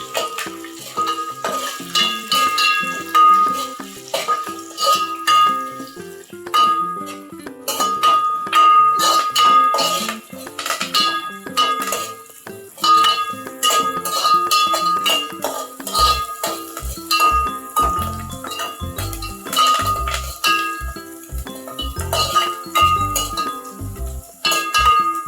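Chopped onion stirred with whole spices and chillies in a pan for egg biryani, with repeated metallic clinks and scrapes of a spoon against the vessel over a steady faint sizzle, no talk.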